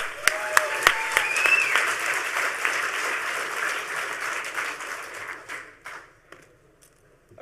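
Applause for a speaker at a HOPE hacker conference talk, a full room clapping with a few sharp claps and a whistle, swelling then thinning out and fading to scattered claps near the end.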